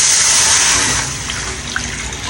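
Water pours steadily into a pan (kawali) holding pork hock (pata) being readied for boiling, a close rushing splash that gradually softens as the pan fills.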